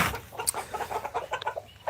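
Chickens on a farm cluck in a busy run of soft, quick clucks close by, with one brief higher squawk.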